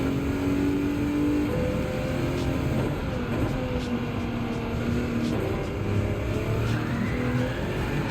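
Race car engine in Gran Turismo 7 droning and revving steadily through gear changes, with rear tires faintly squealing under load, loud and continuous from start to finish with no voices.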